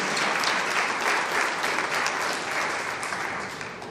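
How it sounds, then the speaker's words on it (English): Graduation ceremony audience gives sustained applause, dense and steady clapping from a large crowd, moderately loud and fading slightly at the end. "Round of applause again for Julian and Scotland"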